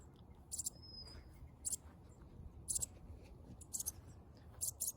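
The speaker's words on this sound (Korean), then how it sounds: "새가 소리가 어디서 들리긴 하는데" Faint, high, thin chirps come from a baby bird hidden in a backyard tomato garden. They arrive in short repeated bursts about once a second over a quiet, low outdoor hum.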